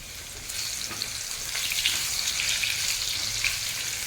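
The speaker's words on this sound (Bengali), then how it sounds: "আলু ভাজাটা কিন্তু হাই ফ্লেমে করা যাবে না, এটা মিডিয়াম টু লো ফ্লেমে ভেজে নিতে হবে।" Potatoes fry in a pan over a medium-to-low flame, giving a continuous close sizzle with scattered crackles and pops throughout.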